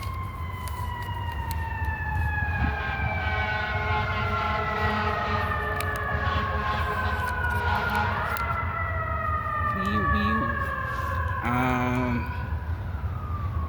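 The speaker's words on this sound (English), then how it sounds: "So there's some sirens." Several wailing ambulance sirens rise and fall together over steady traffic rumble, sustained and fairly loud, with a brief honking burst near the end.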